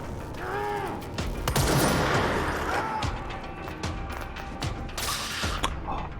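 Gunfire from the video game Control: bursts of rapid shots and sharp cracks mixed with crashing debris and mechanical clanks, loud and close, with a few brief voice sounds in between.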